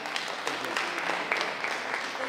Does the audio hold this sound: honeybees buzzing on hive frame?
no